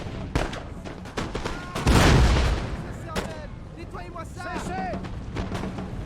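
Cannon artillery booming in a video game battle, scattered sharp reports and one heavy rumbling blast near the middle, mixed with distant battle noise and someone talking over it.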